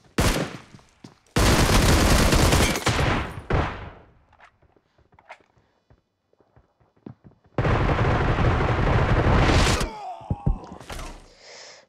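Two long, loud bursts of automatic AKM rifle fire in a video game, each lasting a few seconds, separated by scattered lighter clicks and thumps.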